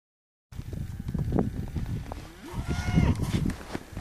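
A herd of about 180 cattle in a pasture moo loudly and repeatedly, overlapping lowing calls close by, with no talking.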